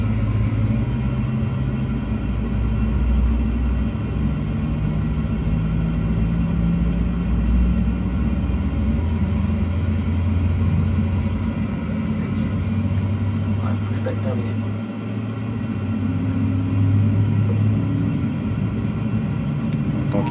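An airliner engine spools up and settles into a steady deep rumble with a rising whine inside the cockpit during preflight, while crew voices talk over it.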